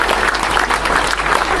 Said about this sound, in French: Marine, et on peut les applaudir, Charlotte, Antoine, Jérôme, Clément,